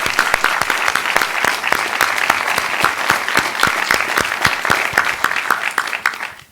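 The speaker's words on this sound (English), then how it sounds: "So a special round of applause." Loud, close applause from an audience honoring a Lemelson-MIT Award winner, with sharp individual claps standing out in a steady rhythm over the dense crowd clapping throughout.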